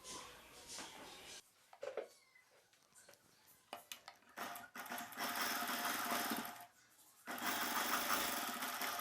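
Sewing machine stitching a silk saree blouse, the motor whirring in bursts of different lengths with brief pauses between runs. Close and fairly loud, with light handling clatter and no talk.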